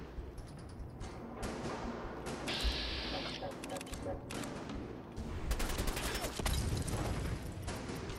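A pistol fires in Fallout 4, several sharp reports and bursts with mechanical clicks of weapon handling. A voice comments in French over the game sounds.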